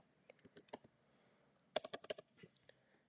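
Keys clacking on a computer keyboard while a hotel reservation confirmation number is entered, two short bursts of quick, light clicks separated by a pause, close and fairly quiet.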